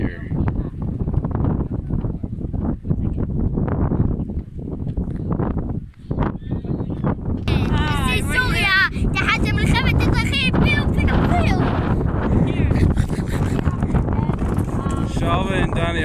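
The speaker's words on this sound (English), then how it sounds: "windy up here" Wind rumbles and buffets the microphone in gusts, with a short lull midway; later, other noisy sounds mix in over the blustery roar.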